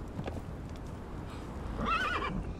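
A horse in the video game Conan Exiles gives a short, wavering whinny against a faint, steady game background, with light hoof clip-clop nearby.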